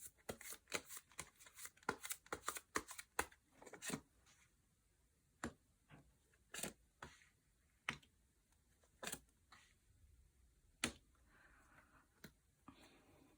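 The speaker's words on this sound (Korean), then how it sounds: "이 주제로 추가 카드를 한번 뽑아볼게요." Tarot cards being shuffled and drawn during a reunion reading: close, rapid riffling bursts for the first few seconds, then sparse single sharp card snaps and slaps at uneven intervals, with no voice.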